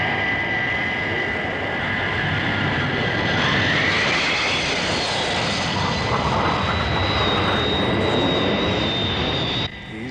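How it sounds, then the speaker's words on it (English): Fixed-wing aircraft engines roaring steadily on final approach to landing with flaps down, a loud continuous drone with a whining tone that shifts slightly, heard alone before briefly dropping away at the end. "Flaps down. Banking for final approach."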